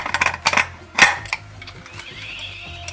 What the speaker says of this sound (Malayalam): അതിൽ നമ്മൾ വെയിറ്റ് ഇട്ടിട്ട് ഈ മൂടി വയ്ക്കുകയാണ്.